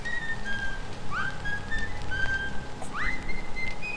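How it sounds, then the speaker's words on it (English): A faint whistled tune from Bendy and the Ink Machine, heard near the door by Inky's pool: several rising and gliding high whistle phrases drifting over a steady low ambient drone, no talking. "remember when you back up to the door in Inky's pool? There's that whistle."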